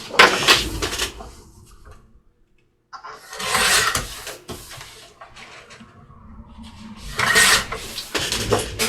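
Scissors or a blade trim a thin strip off the edges of a canvas in an art studio, giving close rasping, rubbing cuts in bursts separated by pauses.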